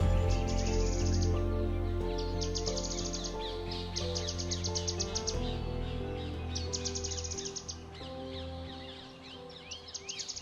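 Migratory wetland birds at Keoladeo National Park call in bursts of bright, repeated chirps over a low, steady background hum, with several voices overlapping at a moderate distance.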